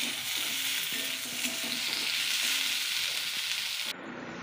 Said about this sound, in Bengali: সেটা দিয়ে ভেজে নেব একসাথে বেগুন আর আলু।